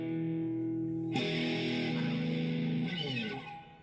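A Maya MST-55 electric guitar plays sustained chords through heavy high-gain distortion, ringing thick and saturated before fading out.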